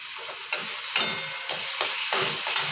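Spice paste for Tangra fish curry stirred in a hot pan, a steady close sizzle broken by several sharp scraping strokes of the spoon at irregular intervals, no voices.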